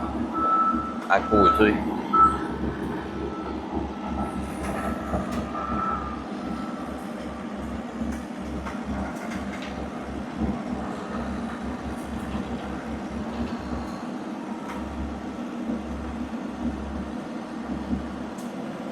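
An excavator's reversing alarm beeps in a steady repeating pattern while it rolls over stone fill inside a garage to compact it, with engine rumble underneath and someone speaking French over it.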